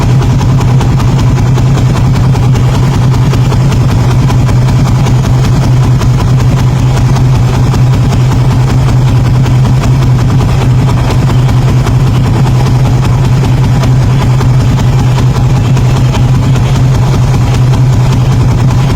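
A Suzuki Raider 150 Fi motorcycle engine idles loudly and close by during a radiator coolant change, a steady, even low rumble that holds for the whole stretch.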